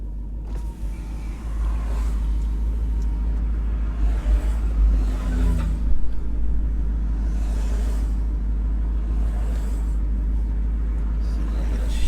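A Jeep SRT Trackhawk cruises along a road, its deep continuous engine rumble and road noise steady and close throughout, with minor swells in level.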